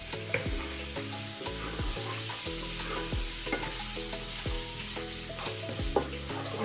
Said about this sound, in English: now we're going to add our ginger and garlic